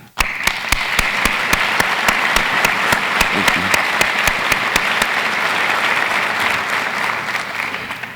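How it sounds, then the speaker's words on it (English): Audience applause at a university State of the University address honoring a steering committee, a steady dense roar of clapping from a large crowd that starts abruptly and holds for about eight seconds without fading. "please join me in applauding this group for setting the bar high for future events"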